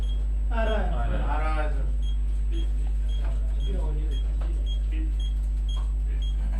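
Short, high electronic beeps repeat at a steady pace over a constant low hum, while a person speaks briefly in between.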